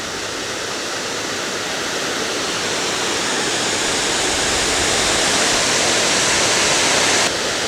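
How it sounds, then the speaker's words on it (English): A summer waterfall on Lake Superior's shore pours a heavy flow of water in a loud, steady, broadband rush that never lets up. "So that's a really nice waterfall with a lot of"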